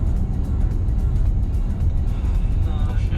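Inside a Porsche at about 100 km/h, a low engine and road roar fills the cabin. It stays steady and fairly loud, with no clear rise in revs.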